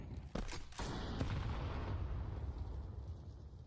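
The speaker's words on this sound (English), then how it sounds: "Couple pops of the P250 upside Yakindar's head." P250 pistol shots in Counter-Strike at a pro match, a few sharp pops near the start over a dense, loud bed of game noise and rumble.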